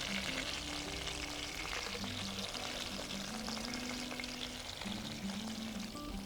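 Chicken skins fry in a pan in oil, giving a steady, close crackling sizzle that runs unbroken for the whole stretch, with a faint tonal hum beneath it.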